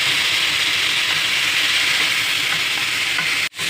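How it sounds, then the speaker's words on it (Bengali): Ground nut paste poured into a hot pan of spiced cooking, giving a loud, steady sizzle and frying hiss with soft stirring scrapes, broken by a short clatter near the end. "বাদাম বাটাটা ঢেলে দেবো।"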